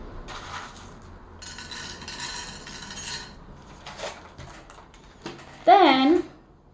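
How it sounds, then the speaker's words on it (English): Pumpkin seeds tipped by the handful onto a plate, bursts of small hard seeds rattling and clinking against the dish, followed by a louder clatter, with a voice speaking briefly near the end. "So I'm gonna start with the pumpkin seeds and just add a handful to the plate"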